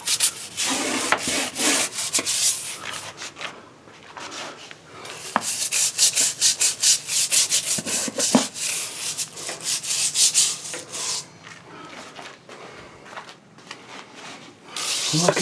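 A scrub pad is worked steadily back and forth over tile and grout during cleaning, giving a continuous close rasping rub in repeated strokes that swell and fade with brief pauses.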